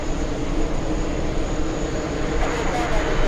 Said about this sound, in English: This is the third A380. We have Lufthansa coming in.